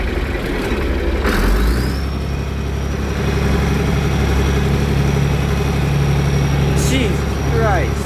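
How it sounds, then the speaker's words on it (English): A car engine running with open headers, a loud raw rumbling drone that revs and holds steady close by, with a rising whine as it pulls through the gears. "Open headers are badass."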